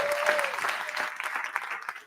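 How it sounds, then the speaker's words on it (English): An Omaha audience at a real estate investing event breaks into sustained applause, dense clapping that fades slightly near the end, with a voice speaking over it. "can you guys give them the loudest applause"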